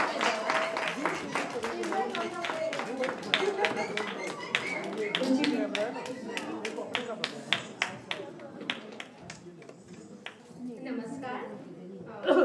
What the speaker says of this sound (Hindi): तुमने खाना नहीं खाया, तालियों में आवाज ही नहीं आ रही है